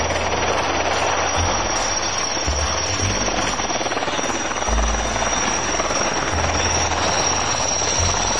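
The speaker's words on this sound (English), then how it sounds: "消防直升机 firefighting helicopter" A toy firefighting helicopter whirs with a continuous buzzing rotor drone, loud and close, plus a few low thumping bumps.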